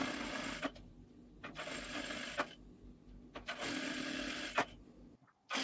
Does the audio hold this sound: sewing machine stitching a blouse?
yes